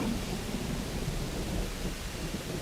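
Steady heavy rain with a low rumble of thunder in a Jurassic World game, a dense, constant wash of noise holding at one level throughout with no talk.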